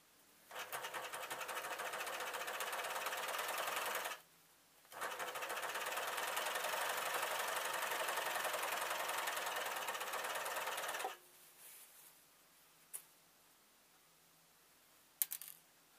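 An overlocker serger sews a rolled hem on stretch fabric, running in two steady, fast whirring bursts of several seconds each, followed by quiet handling and a couple of faint clicks.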